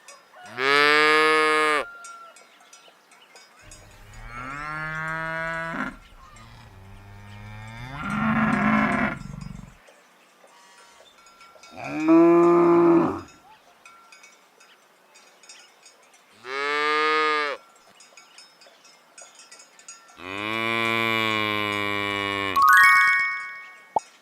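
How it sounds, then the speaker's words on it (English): Cattle mooing in a series of about seven long, loud, close calls, each a drawn-out bellow separated by short quiet gaps, with a faint jingle of a bell near the end. "Cow."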